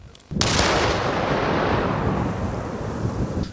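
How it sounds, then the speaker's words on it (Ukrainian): Quiet background suddenly broken by a single powerful detonation of a rocket shell, set off electrically with a placed explosive charge by police bomb technicians, followed by a long rumbling roar and debris-like crackle slowly fading. "Снаряд знищено з допомогою накладного зряду вибухівки шляхом електропідриву"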